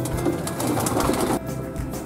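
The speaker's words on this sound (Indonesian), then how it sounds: "Kalau ini merpati jenis Maltese." A Maltese pigeon imported from Germany coos softly and repeatedly, the low throaty calls close by over steady background noise.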